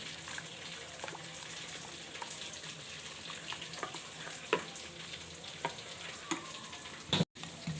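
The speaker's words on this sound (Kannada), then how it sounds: "ಇದನ್ನು ನಾನು ಚೆನ್ನಾಗಿ ಮಿಕ್ಸ್ ಮಾಡ್ಕೊತೀನಿ" Ground coconut mixed with hot water being stirred, a quiet, continuous wet swishing with soft scraping clicks, close and without talk.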